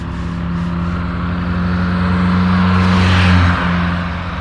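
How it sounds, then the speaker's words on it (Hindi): A car passes by on a roadside in Serbia, its engine hum and tire whir building steadily to a close peak and then starting to fade, with no voices. "एक गाड़ी और आ गई है"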